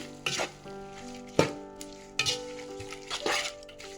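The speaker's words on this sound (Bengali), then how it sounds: "এখানে পেঁয়াজ দিয়ে দিলাম, হলুদ মরিচ ধনে জিরে দিয়ে আগে বসিয়ে দিলাম। এগুলোকে একে নেড়ে নিচ্ছি।" Onions with turmeric, chili, coriander and cumin sizzle in a pan for beef bhuna, with several scraping stirs cutting through the steady frying hiss, up close.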